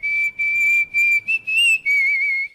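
A person whistles a sustained, slightly wavering high tune in several phrases with short breaks, loud and close, with no talking.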